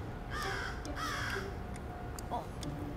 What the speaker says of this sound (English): No, the crow has always been with us